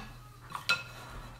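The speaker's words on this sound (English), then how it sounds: "Get the bowl out of the way with all the banana goop." A bowl of banana batter slid aside on a kitchen counter, making one short clink of dish against surface among faint kitchen noise.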